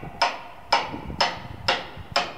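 Hammer striking a metal wedge in a steady rhythm, five sharp ringing blows about half a second apart, close and clear with no talking.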